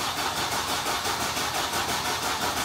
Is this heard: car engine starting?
yes